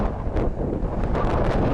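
Strong wind on the bank of the Kargat river buffets the microphone in a continuous low roaring rumble with gusty surges and no voices.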